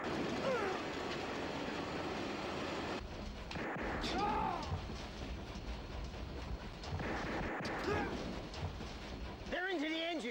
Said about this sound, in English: We best get this on the train before Mad Dog gets us